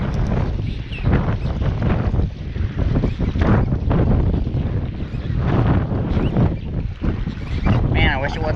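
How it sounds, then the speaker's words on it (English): Strong wind buffeting the microphone while fishing outdoors, a loud, continuous rumbling roar with gusty surges that never lets up. "I wish it wasn't so windy."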